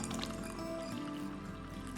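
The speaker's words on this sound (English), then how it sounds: "we are just gonna simply pour the cup of coffee." French press coffee pours from the carafe into a cup in a faint, steady liquid trickle that keeps running quietly and close by throughout.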